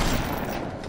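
Heavy-recoil weapon fire in Bioshock, a dense, continuous burst of loud gunshots blending into a single sustained roar with no pauses.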